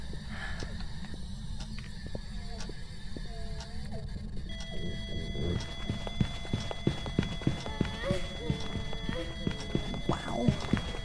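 In a video game, a Raiju ghost's footsteps come as quick, regular thuds that grow louder and closer over several seconds, set against a low electronic hum and faint tonal beeps.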